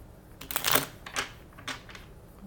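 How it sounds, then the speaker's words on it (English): Tarot cards being shuffled, heard as a few quick riffling, papery bursts close to the microphone, loudest near the start and fading into softer flicks, with no talk. "Shuffle them a couple more times."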